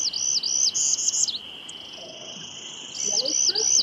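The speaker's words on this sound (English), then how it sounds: "Oh, Northern parula." A Northern parula sings buzzy rising trills in two bursts, clear and fairly close over a steady high insect-like drone, with a quiet pause between phrases.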